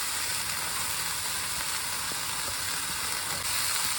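Garlic frying in a pan for mutton keema balls curry, a steady close sizzle with soft crackle throughout, no talking.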